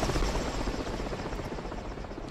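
A helicopter in the military video game Project Reality makes a steady, loud rotor drone and whine that fills the scene without pause.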